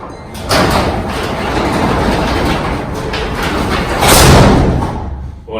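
A balanced overhead garage door rolls upward on its tracks, a steady rumbling, rattling glide close by that builds and swells louder near the top of its travel before settling, with no talking.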